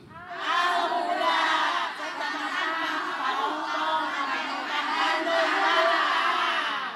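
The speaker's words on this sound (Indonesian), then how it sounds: "Tepuk tangan dulu." Studio audience at an Islamic religious talk show (majelis taklim gathering) shouting and cheering together in a dense, sustained crowd roar with whoops, loud and continuous throughout.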